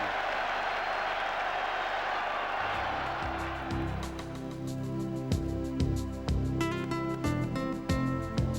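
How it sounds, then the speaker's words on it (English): Home crowd at Cardiff Arms Park rugby ground roaring and applauding at an international match, a broad wash of cheering that fades as a brass band strikes up and plays on over it. "The home crowd delighted."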